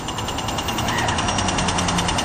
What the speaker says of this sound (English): there's this audio clicking noise that just tells you you can walk